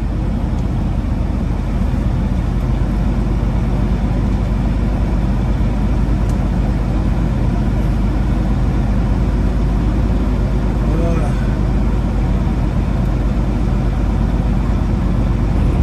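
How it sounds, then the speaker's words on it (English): A Freightliner Classic XL truck engine idles in winter cold, a steady low rumble filling the cab throughout, with faint voices in the background. "we got the motor running"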